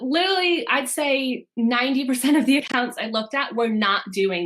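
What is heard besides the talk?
None of the usual background noises is heard.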